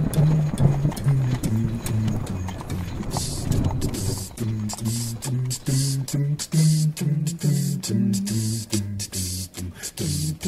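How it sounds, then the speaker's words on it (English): Horse hooves clip-clop in a steady rhythm as a horse-drawn carriage moves along, close and clear, with creaking and rattling between the beats and no talking. "Okay, driver, don't spare the horses."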